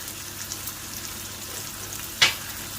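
Chicken in a white pasta sauce for fettuccine alfredo fries in a pan with a soft, steady sizzle, broken by one brief clink of a utensil stirring near the end.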